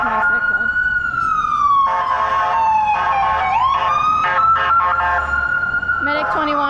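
An ambulance siren wails and yelps on a city street during an evening walk, loud and nearby with shifting pitch sweeps, while a person talks over it.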